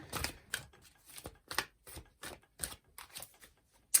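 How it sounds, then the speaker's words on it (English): A deck of oracle cards is shuffled close up, making a quick series of crisp riffling and flicking bursts separated by short pauses. "they shuffle really well"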